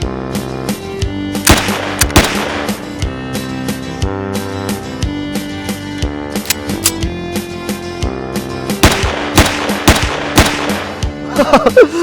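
A gift gun fires into the air in repeated rapid bursts of sharp, loud shots over steady background music.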